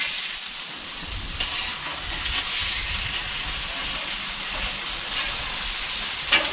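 Burger patties sizzle on a Blackstone griddle with a steady, moderately loud hiss and crackle, continuous throughout, with a brief sharper pop near the end.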